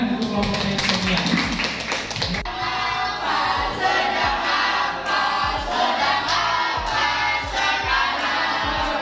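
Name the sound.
classroom applause for the presenting group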